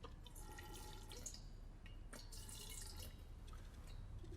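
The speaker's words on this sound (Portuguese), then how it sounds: "O waterphone, instrumento no qual é preciso colocar um pouco de água para ouvir a sua vibração." A waterphone, a percussion instrument holding a little water, is played softly, giving faint eerie shimmering and dripping metallic tones that swell and fade, quiet and alone.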